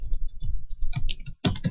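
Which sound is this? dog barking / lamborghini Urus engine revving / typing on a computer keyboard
typing on a computer keyboard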